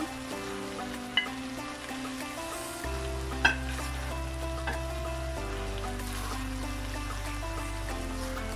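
Rice vermicelli stir-fried with green chili in a pan, with a soft sizzle and occasional stirring scrapes and taps over a faint, steady tonal hum.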